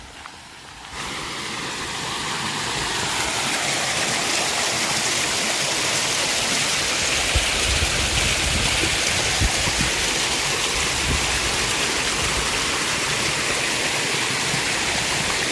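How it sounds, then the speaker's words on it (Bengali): Artificial waterfall fountain in an eco park, fed by a motor-pumped tank, pours in a steady, loud, broadband rush of falling water that swells in after a quiet first second and holds unbroken. "ঝর্ণা বানানো হয়েছে"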